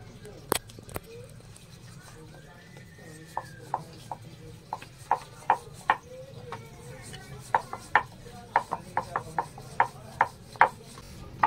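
Paratha dough being rolled out with a rolling pin: a run of close, irregular taps and knocks as the pin meets the board, some soft rubbing between, under a quiet room hum with occasional talk.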